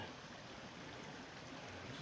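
A stream runs along the Switzer Falls trail in the Angeles National Forest, California, giving a faint, steady rush of flowing water that holds constant throughout, with no voices.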